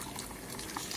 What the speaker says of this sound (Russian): Вода кипит.